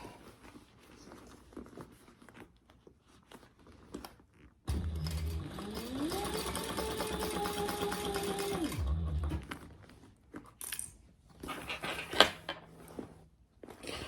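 A sewing machine stitches a beginner tote bag with D-rings kept out of the way, running in one steady burst of about four seconds that speeds up briefly, with quiet handling noises before and after.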